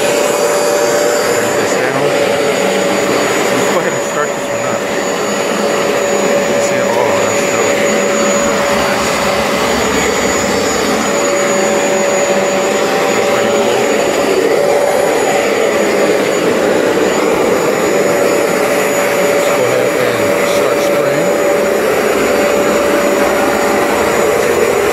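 A Bissell ProHeat 2x Revolution Pet Pro carpet cleaner runs steadily and loudly, its motor giving a constant whining drone with a fixed tone that stays even for the whole stretch.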